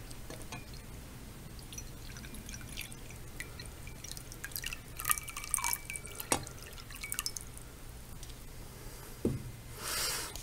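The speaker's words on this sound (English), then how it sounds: "So I'm going to put some water in my chalice here." Water poured into a ritual chalice, faint trickling and dripping in a quiet room with scattered small clinks and handling sounds, ending in a short soft splash.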